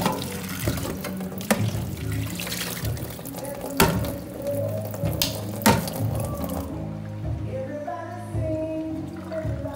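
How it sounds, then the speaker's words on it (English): Potatoes are rinsed of dirt under a running kitchen tap, a steady wash of water with several sharp clunks and knocks as they are handled in the sink, and the flow eases off toward the end. "we're gonna wash all the dirt off the potatoes first before peeling them"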